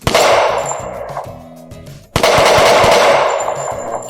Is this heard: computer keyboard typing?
no